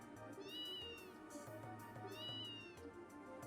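A cat meows twice in the Trails in the Sky SC video game, each a rising-falling, catlike cry heard clearly over a low, steady game music backdrop.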